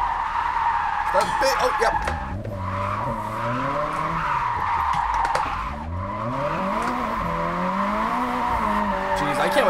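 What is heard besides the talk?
car drifting with tire squeal in a video game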